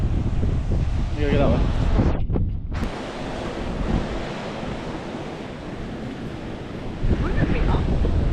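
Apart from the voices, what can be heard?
wind on a hilltop during a hike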